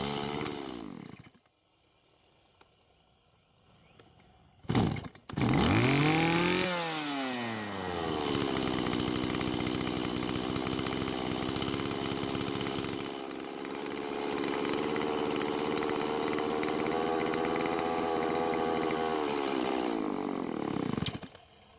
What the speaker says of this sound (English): Surprisingly, it started and ran this time, so it would seem that I just didn't pull on the rope enough in the last video.